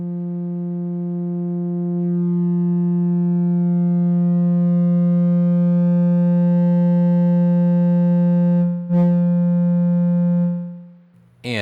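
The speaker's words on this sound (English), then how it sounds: "at a key point, we hit a point where it goes into harmonic distortion, and we start seeing a lot of other harmonics being introduced." A steady sine tone played through the Pro Tools Vacuum plugin is pushed into harmonic distortion. It gradually builds a dense stack of added harmonics, holds loud and buzzy, wavers briefly near the end, then cuts off.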